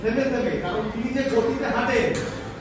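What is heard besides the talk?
No everyday noise stands out behind the speech.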